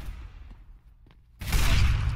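A burst of rapid gunfire from a gun in CS:GO erupts after a near-silent stretch, loud and dense until the end.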